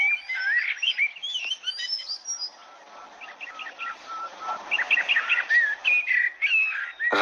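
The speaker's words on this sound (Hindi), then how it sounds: "फिर कुछ समय बाद पक्षी वहां आते हैं और आवाज करने लगते हैं।" Birds chirp and whistle in bright, rapid bursts, several calls overlapping at close range with a brief lull midway, then resume busily until a short thump at the end.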